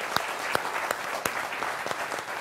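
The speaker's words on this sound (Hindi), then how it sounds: "उनका जोरदार तालियों के साथ अभिनंदन है" A studio audience on a Hindi television debate show claps briefly and fairly loudly, with a few sharp individual claps standing out from the steady patter.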